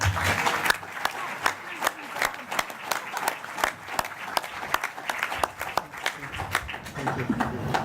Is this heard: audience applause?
yes